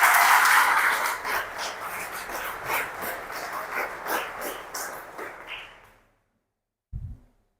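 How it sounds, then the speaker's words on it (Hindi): Students applauding to welcome a physics teacher at a school event at GBSS Laal Paani Shimla, a heritage school: dense, steady clapping that gradually fades out, followed after a brief silence by a single low thump. "पहले चाहूंगा तालियों से इनका स्वागत करें बेटा।"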